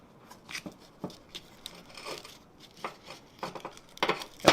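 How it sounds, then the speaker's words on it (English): Painter's tape comes off the roll and is pressed into place while a guillotine tool from a forge kit is set up, with scattered soft tearing and crinkling rasps, growing louder near the end, close by with no speech. "we'll get just a little bit of painter's tape here"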